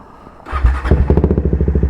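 A Triumph Speed 400 motorcycle engine cranks and fires up, then settles into a loud, close, rhythmic single-cylinder idle with evenly spaced pulses.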